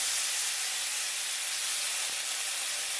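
Drumstick leaves frying in a pan with onions and a little tamarind give off a steady, loud, close sizzle, a continuous bright hiss with no pauses and no voices.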